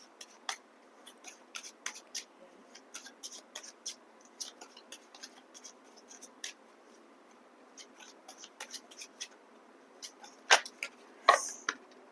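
Tarot cards are picked up and gathered from a surface, producing faint, scattered soft taps and paper rustles, with a few louder clicks near the end and no talk.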